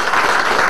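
Brief burst of audience clapping at a political rally speech, a dense, loud patter of many hands lasting under a second.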